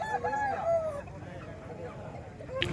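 Roosters at a weekly chicken market in Gudur, one crowing clearly nearby amid market bustle, with a person talking over it.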